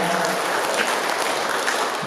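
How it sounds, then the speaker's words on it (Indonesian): Audience applause for two speakers at a seminar in a hotel venue, steady dense clapping throughout the short burst, fairly loud and even with no pauses. "boleh kita kasih tepuk tangan untuk dua narasumber kita"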